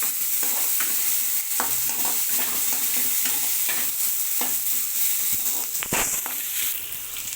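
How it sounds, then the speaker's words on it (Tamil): Steady crackling sizzle of shallots frying in hot sesame oil, with occasional stirring scrapes and clinks, close and continuous. "சின்ன வெங்காயத்தை நல்லா பொன்னிறமாக வறுத்துக்கோங்க"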